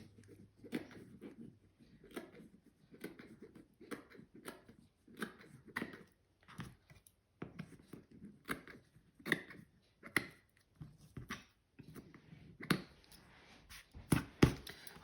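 Scissors snip through craft material for an Easter bunny, a run of short crisp cuts in an irregular rhythm, close and quiet, becoming quicker and a little louder toward the end.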